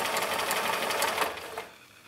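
A sewing machine runs steadily while stitching a gently curved quilting seam, a close, even whirring that carries for most of the moment and then stops abruptly near the end.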